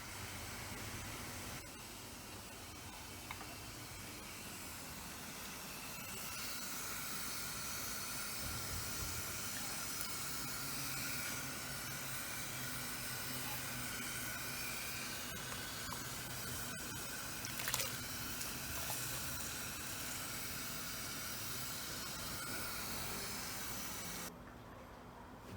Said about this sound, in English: I've just at the moment just got all of that stuff on the boil